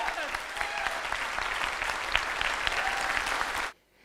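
An audience applauds steadily and loudly at a business seminar, a dense wash of clapping that holds evenly for most of the moment and then cuts off abruptly near the end.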